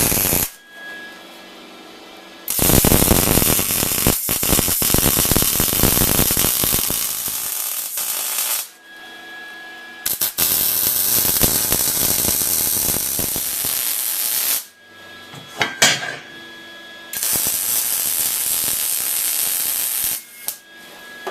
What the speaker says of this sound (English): now as we start to weld these feet onto these legs